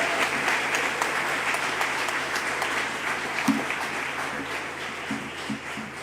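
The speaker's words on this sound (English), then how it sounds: "Raúl Padrón, for who I ask for a big applause." Audience applause for Raúl Padrón at a student parliament session of an international spring colloquium, a steady wash of many hands clapping for about six seconds, with a few louder claps standing out near the end.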